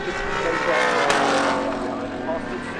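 Race cars roar past at the Rolex 24 Michelin Pilot Challenge, including a McLaren supercar, a loud sustained engine drone rising and fading under steady commentary.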